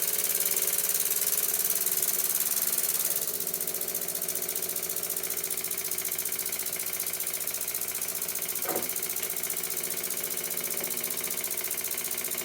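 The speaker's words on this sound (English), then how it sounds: "To test run the engine, I fitted the firebox" A small Birmingham Dribbler model steam engine test runs on a bench, raised on a mahogany block with its wheels clear, giving a rapid, steady mechanical ticking and rattle that drops slightly in level partway through, with a brief squeak near the end.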